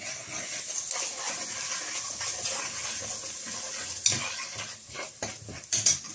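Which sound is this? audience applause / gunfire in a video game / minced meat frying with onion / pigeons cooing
minced meat frying with onion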